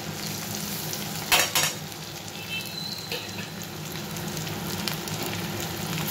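Ginger and spices frying in oil in a pan, a steady close sizzle with a sharp clatter as they go in and continued light stirring.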